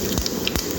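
Urad dal and cumin seeds hit hot oil with a steady, close hiss and spitting sizzle, broken by a few sharp crackling bursts, in a home kitchen while chickpea paratal is being made.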